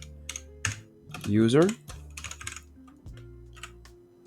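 Keys clatter on a computer keyboard in quick, uneven bursts of close, crisp clicks, with a short spoken word breaking in partway through.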